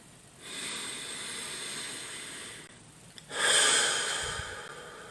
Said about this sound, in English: the wave breathing can also be performed in a subtle and calm manner